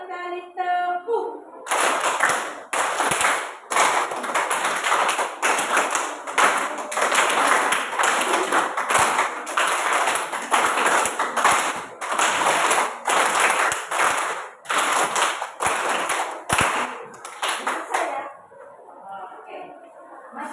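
A classroom of students clapping hands together in rhythmic groups, sharp bursts of claps repeating steadily for many seconds, loud and close, with a teacher's voice at the start and end.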